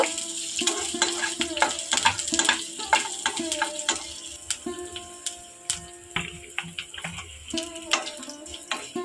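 Chopped curry leaves fry for a tempering in a pan, a close crackling sizzle broken by repeated metallic clinks and scrapes of a stirring spoon at an uneven rhythm.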